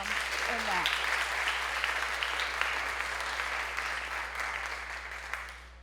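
Sustained audience applause at the NAMI Latino Leadership Conference, a dense steady wash of many clapping hands filling the room, moderately loud and slowly tapering, with a brief voice heard at the very start.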